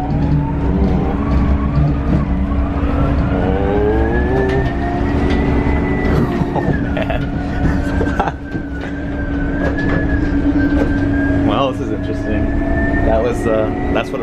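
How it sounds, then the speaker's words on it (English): A Proterra electric bus drives through snow in Duluth in December, giving a loud, steady drone with a rising whine close by, while people talk over it. "That's what a Proterra sounds like when it's dealing with snow up there."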